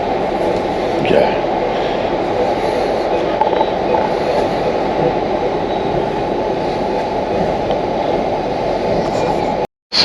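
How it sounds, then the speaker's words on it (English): Trains constantly arrive at and leave a busy railway station, making a steady, loud rumble of rolling wheels with faint squeals. Murmured voices sit under the noise. "how many trains are just continually coming and going"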